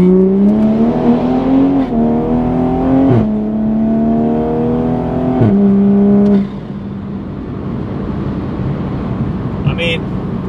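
A Toyota Supra A90 with a dual-clutch transmission tuned for quicker shifts accelerates hard, its loud engine note rising through several rapid upshifts before settling to a lower cruising drone, heard from inside the car.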